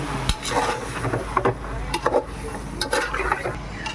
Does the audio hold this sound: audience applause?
no